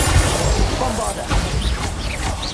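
A Bombarda spell blast in Hogwarts Legacy bursts with a crashing, rumbling impact and scattered debris clatter, loud and close, while a voice speaks over it.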